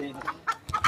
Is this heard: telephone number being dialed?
no